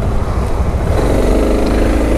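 KTM motorcycle ridden through city streets on a night ride, its engine droning steadily and close with a rough low throb and a slight rise in pitch partway through.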